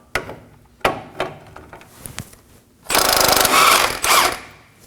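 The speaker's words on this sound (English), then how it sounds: "Using a 17mm socket, we're going to remove the knot." A 17mm socket on a ratchet or impact tool loosens the nut on an outer steering tie rod of a 2014-2020 Acura MDX, giving a few sharp knocks and clicks followed by a loud, sustained mechanical rattling burst.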